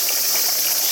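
A dense, steady shrill buzz of cicadas fills the grounds of a temple in Kamakura, loud and continuous through the short moment.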